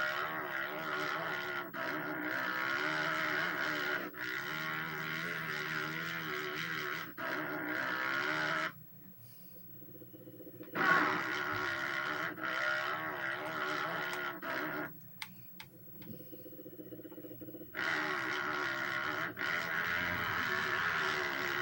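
An ATV engine drones steadily through a training lap around an off-road dirt course in the PlayStation 2 game ATV Offroad Fury, rising and falling with throttle and dropping out briefly in two spots.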